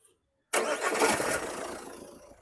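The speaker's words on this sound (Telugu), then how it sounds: "సింగిల్ సెల్ఫ్లో బండి స్టార్ట్ అవుతుంది సార్." A 2017 Jeep Compass Longitude starts on the first crank with a quick catch and settles into a steady idle that slowly quiets. The sound is close and plain, with no talk.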